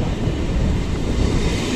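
A passenger train runs from Patna toward Sonpur, heard from on board as a loud, continuous rumble of wheels and rushing wind with no voices.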